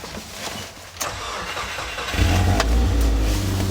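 A Saab 9-2X, a rebadged Subaru Impreza with a misfire fault, cranks briefly and catches, settling into a loud, steady, rough-edged idle close by.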